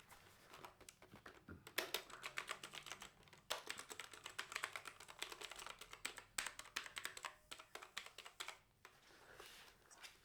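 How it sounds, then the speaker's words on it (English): Quiet typing on a Kreo Hive 65 keyboard, a rapid stream of soft, muffled key clicks in irregular bursts with short pauses, close and fairly low in volume, with no talking. "As you can hear, it is not that loud. It is quiet keyboard."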